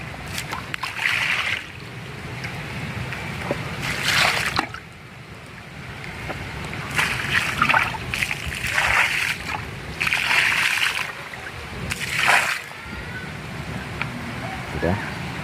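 Water splashing in bursts while a grafted durian tree is watered outdoors, several irregular gushes against soil and leaves under wind noise, with a person talking between them.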